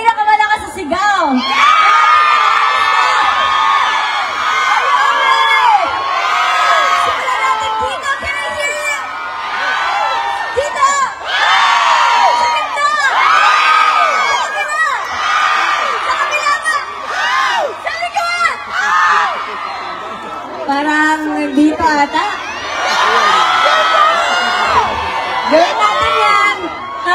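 A large concert crowd at a performance in Birmingham, UK shouts, screams and cheers in loud repeated waves, with whoops rising and falling over about half a minute.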